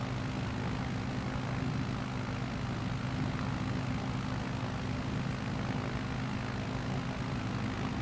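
Steady airplane engine drone in a video game, a constant low propeller-like hum and rumble, unchanging and continuous with no talk.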